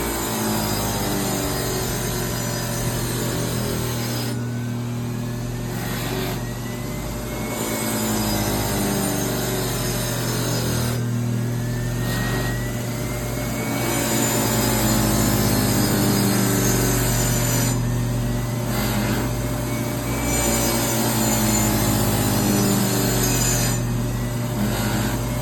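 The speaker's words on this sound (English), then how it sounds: "So I've got my grinder running." Bench grinder with a buffing wheel running steadily while a knife is sharpened against it, a constant motor hum with repeated rising whines and rubbing passes as the blade is drawn across, close and alone.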